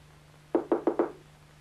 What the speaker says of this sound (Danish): Hun ved godt, det egentlig ikke nytter noget at banke på.